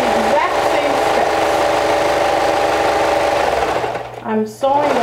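A sewing machine runs steadily, stitching along the top and back of a hood lining, a loud continuous whir that slows and stops near the end.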